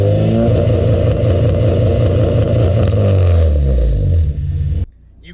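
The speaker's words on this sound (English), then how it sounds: "So put it in first, give it some gas." A Honda Civic engine holds a loud, close rev against launch control, a pulsing limited drone that cuts off abruptly near the end.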